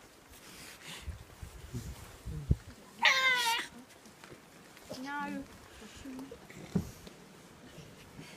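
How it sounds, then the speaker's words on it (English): Tasmanian devils vocalising: a few short, sharp yowling and growling calls, the loudest around the middle, over quiet background rustle, with a brief spoken word. "So devils, they make a lot of noise."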